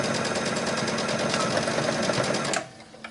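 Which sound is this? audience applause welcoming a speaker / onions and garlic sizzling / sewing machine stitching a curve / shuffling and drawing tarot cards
sewing machine stitching a curve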